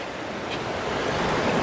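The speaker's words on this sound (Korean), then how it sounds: "오 파도 소리가" Ocean waves washing onto a Guam shore at high tide, a loud, steady rushing surf with wind noise, heard alone and close.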